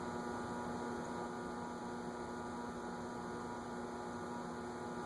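A running SMC model W52 ceiling fan gives off a steady, continuous electrical buzz and low hum, close and unchanging throughout with no voices.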